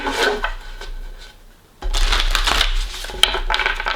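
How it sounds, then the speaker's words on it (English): Tarot cards are shuffled close up in two bursts of papery riffling and rubbing, separated by a short pause. "I'm going to give them a couple of shuffles."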